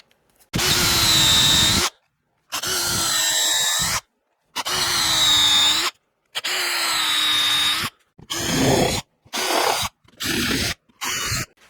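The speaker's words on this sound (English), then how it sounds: "I'm going to put a depth stop on my drill bit" A power drill with a depth stop on the bit whines through wood in repeated bursts, four long runs followed by several shorter ones, each separated by brief silence, loud and close.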